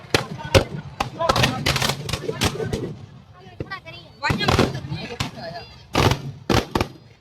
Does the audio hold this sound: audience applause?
no